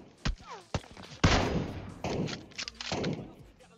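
Gunshots ring out in PUBG Mobile, with several sharp cracks and a heavy boom followed by scattered further shots and echoing tails, close and loud.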